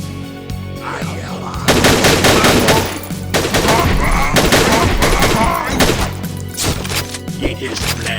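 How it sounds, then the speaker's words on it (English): In the shooter game Ashes 2063, a machine pistol fires in short, feathered bursts. Several loud clusters of rapid shots sound close over steady in-game background noise. "find the machine pistol works best when you feather it like that, little bursts."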